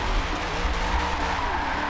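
Continuous tire squeal from a car skidding while warming its tires in a racing game driven on a Logitech G920 wheel, a steady close screech over a droning engine.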